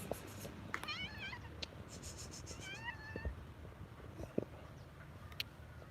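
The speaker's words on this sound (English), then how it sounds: "Look at this kitty." A female cat meows twice, soft and a little distant, amid faint clicks and light scraping.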